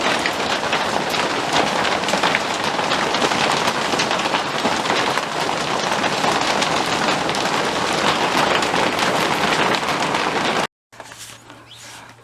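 Steady, heavy rain falls in the desert as a loud, close, continuous downpour, then cuts off abruptly near the end, leaving a quieter background.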